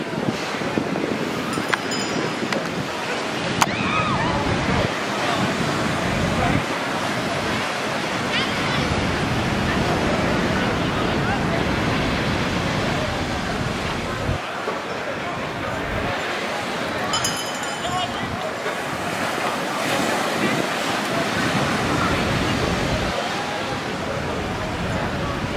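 Ocean waves wash up on a Puerto Rico beach in a steady, loud roar of surf, with wind buffeting the microphone and a person talking over the water throughout.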